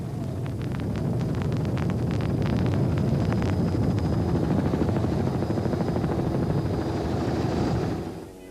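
Helicopter filming a 1997 Toyota 1000 motorcycle race, a loud close rotor chop and engine drone that holds steady, then fades out at the end.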